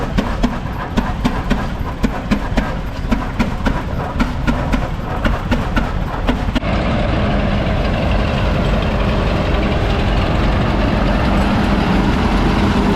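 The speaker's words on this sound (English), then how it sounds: "Here's a giant case hit and miss, and you can hear those cylinders fire." A large Case hit-and-miss engine at a steam engine show rumbles loudly with irregular sharp cylinder firing pops in the first half, then settles into a continuous heavy running drone.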